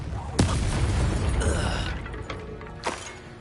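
Confringo blasting spells going off in Hogwarts Legacy: two sharp, loud bursts roughly two and a half seconds apart, over a dense low rumble of battle noise with mechanical clatter in between.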